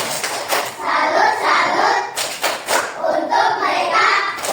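Children in a classroom clap together in short, rhythmic bursts of patterned applause, moderately close and mixed with some voices.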